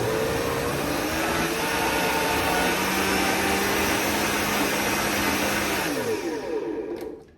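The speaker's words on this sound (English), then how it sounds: "I'm gonna blend all my beans, my carrots, my celery. You wanna blend this until it's all smooth, like a puree." A blender purees beans, carrots and celery for soup, its motor roaring loud and steady up close for several seconds before winding down and stopping.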